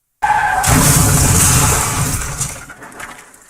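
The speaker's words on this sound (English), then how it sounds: "Before I could even scream, the car rolled down and crashed." A sudden loud crash of a car rolling down and crashing bursts in, followed by a sustained roaring, grinding noise that slowly fades away.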